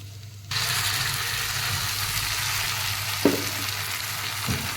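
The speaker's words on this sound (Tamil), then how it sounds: "இந்த ஸ்டேஜில் குறை குறைன்னு அரைச்சி வச்சுருக்கேன் பீக்கங்காய் பேஸ்ட்டை சேர்த்துக்குவோம்" Ridge gourd paste goes into a pan of sautéed onions, giving a steady close sizzle and frying hiss that starts abruptly, with a couple of brief stirring knocks of a spoon against the pan.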